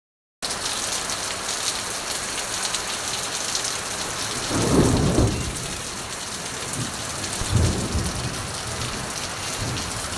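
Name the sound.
heavy rain with thunder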